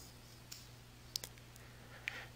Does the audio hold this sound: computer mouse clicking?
yes